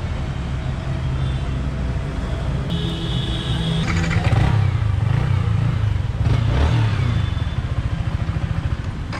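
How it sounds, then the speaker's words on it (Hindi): A new 2019 Yamaha R15 V3 motorcycle starts for the first time outdoors, its engine catching with a clattering burst and then idling and revving loudly and steadily nearby. "तो फाइनली भाई का बाइक बाहर रेडी एंड फर्स्ट बूट"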